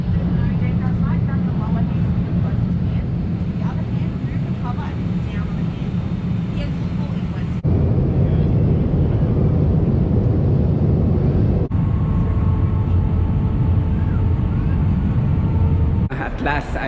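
A passenger jet on a flight to Sydney roars loudly and steadily throughout, a dense, sustained engine rumble heard from inside the cabin.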